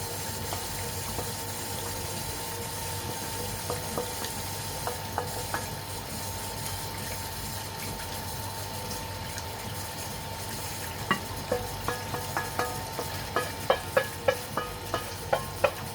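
British Indian restaurant-style egg fried rice is worked through a hot pan, a low steady hiss under faint clatter that turns into a rapid run of sharp metallic scrapes and taps near the end.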